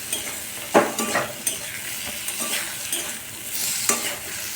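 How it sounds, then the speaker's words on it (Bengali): Spices with turmeric and cumin frying in a pan while being stirred, a loud sizzle broken by several scraping stir strokes, close and without speech. "ভালো করে একটু নাড়িয়ে দেবো।"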